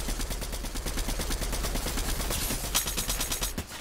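Rapid heavy shotgun fire in Fortnite, a dense, continuous burst of booming shots at close range that fills the whole moment with no voices over it.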